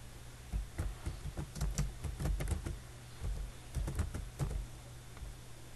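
Rapid keystrokes on a computer keyboard typing a chart title into an Excel spreadsheet, a steady run of soft clicks over a low hum, close and moderately quiet.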